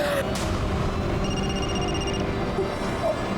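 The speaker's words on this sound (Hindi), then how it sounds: "उसी वीडियो वाले नंबर से फोन आया, उसी नंबर से" A telephone bell rings in steady repeated trills over a constant background hum.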